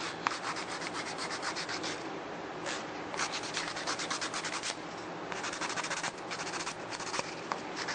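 A nail file rasps back and forth over acrylic nails in steady, close strokes, a continuous scratchy rubbing that runs the whole time with brief pauses and slight shifts in pace, no voices.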